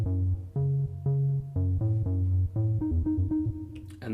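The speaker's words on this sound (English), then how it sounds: "MKS50 Bass 1 and sounds like this." A Roland JD-Xi synth bass patch, MKS50 Bass 1, plays a loud, steady line of short and held bass notes with a dulled filter, alone and close.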